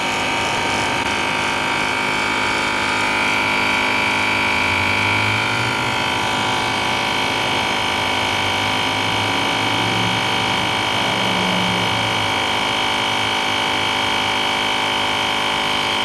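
JDP400 jump starter's built-in air pump inflating a tire, a loud steady motorized drone that runs unbroken and close throughout, no talking.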